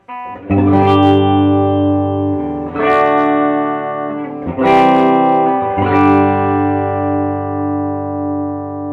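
Clean electric guitar from an LTD EC-1000 played through a Fender Hot Rod Deluxe amp, with a few loud ringing chords and single notes struck at intervals and left to sustain and decay, with no talking.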